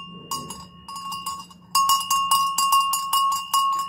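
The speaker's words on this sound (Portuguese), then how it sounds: "eles usavam esse tipo de sino pendurado no pescoço" A metal livestock neck bell, the kind hung on an ox, rings repeatedly in quick clusters, bright and close, with steady clanking rhythm and no voices.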